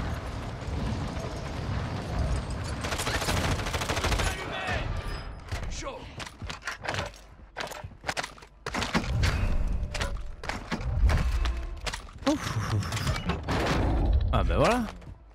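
Gunfire in the shooter Warzone crackles in scattered bursts and thuds, some rapid and some spaced out, mixed with mechanical clatter while voices talk over the action throughout.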